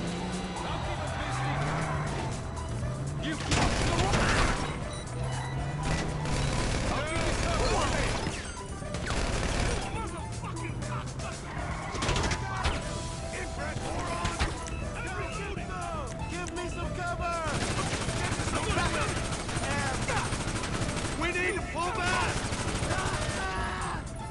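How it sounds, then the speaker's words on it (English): Gunfire erupts repeatedly in the GTA video game amid car engines, crashes and chaotic action, with a voice talking over the noise. "Didn't expect them to start shooting so fast."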